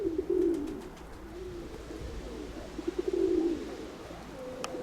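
Pigeons coo in a loft, with low, throaty calls repeating at the start and again later, fairly close over a quiet background.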